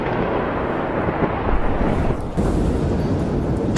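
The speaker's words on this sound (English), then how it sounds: "So, huge explosion." Huge explosion at a chemical factory that made material for explosives: a sustained, loud, broadband roar and rumble that swells around the middle, with no talking over it.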